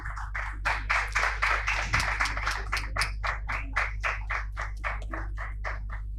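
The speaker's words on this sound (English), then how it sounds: "So please give a round of applause to the team 1, Anmol Shahi, Dhruv Patak, and Nikhil Kumar" Rhythmic group clapping from a small audience at a business school youth session on sustainable development, steady beats over a constant low hum in the room, with no talk.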